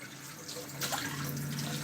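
Water runs steadily from a kitchen tap while it warms before cooking, a continuous splashing hiss that grows a little stronger partway through, heard alone without any talk.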